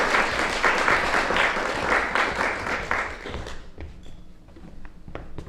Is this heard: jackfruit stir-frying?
no